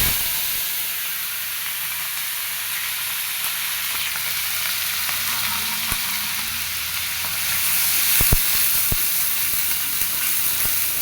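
Onion, garlic, ginger and cumin paste fry in hot oil with dried chilli and cumin seeds, giving a loud continuous sizzle and a few spoon clicks near the end, heard close with no voices.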